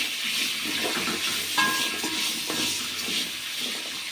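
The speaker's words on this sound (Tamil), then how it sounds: "இப்போ தக்காளியும் சேர்த்து நல்லா வதக்கி விட்டுடலாம்" Tomatoes sautéing with onions and pepper-cumin seasoning in a pan, making a loud, dense, continuous sizzle with faint stirring knocks, close up and without speech.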